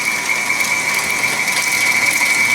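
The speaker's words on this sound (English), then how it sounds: "a little more meat, a little more bacon. I am on the coarse grind right now." A meat grinder running pork loin and bacon through a coarse plate, a loud, steady mechanical whir with a constant high whine and rattling gears, alone and unbroken.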